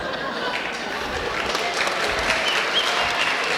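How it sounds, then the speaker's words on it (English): Wedding reception guests applaud a speech, a dense burst of steady clapping that stays loud and even across the few seconds, with a little crowd murmur underneath. "Hold for applause."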